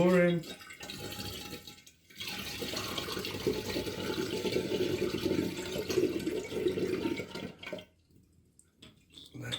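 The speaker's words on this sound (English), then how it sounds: "we're going to put our Rewe juice in" Grape juice is poured through a funnel into a container for winemaking, a steady gurgling splash that pauses briefly, with people talking during the pour.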